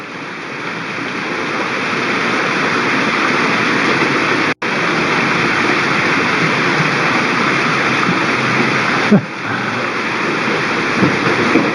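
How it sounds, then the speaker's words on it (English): Faleha Falls in Rubio Canyon, Altadena, California, pours as a loud, continuous broadband rush of falling water close to the microphone, with a brief dropout and a thump partway through. "showing a man at Faleha Falls in Rubio Canyon, Altadena in California"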